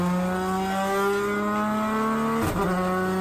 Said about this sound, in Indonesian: dalam dunia otomotif sudah tidak asing lagi mengenai dyno test atau dynometer, yaitu alat untuk mengukur sebuah horsepower atau torsi sebuah mobil